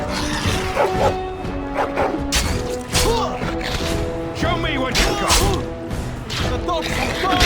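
Dogs bark and yip during a fight in the video game Dragon Age, amid a busy, continuous soundscape with shouted voices and clashing noises, the barks short and repeated throughout.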